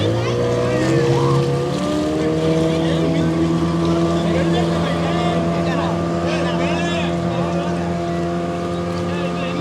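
A speedboat towing a banana ride at a beach in Goa, its engine droning steadily and loudly at close range with wind buffeting the microphone and faint voices underneath.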